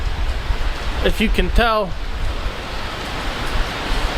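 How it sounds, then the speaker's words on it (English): Heavy rain pours steadily at a train station platform, a dense continuous hiss filling the whole moment while someone talks briefly over it. "it is absolutely pouring right now"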